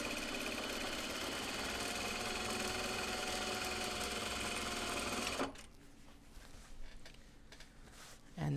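A sewing machine top stitches a fabric drawstring bag, running in a steady fast whir for several seconds before stopping abruptly, leaving quiet handling noises.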